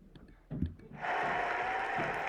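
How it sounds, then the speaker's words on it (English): Applause breaks out at a school celebration assembly, a steady wash of many hands clapping that swells in after a few faint sounds and holds at moderate distance. "Hopefully you can hear that clapping."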